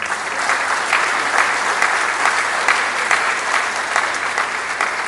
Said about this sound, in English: Let's clap very well for him.